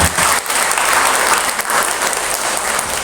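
Loud, dense applause from an audience at a school foundation event in Indonesia, a continuous crowd of clapping hands throughout.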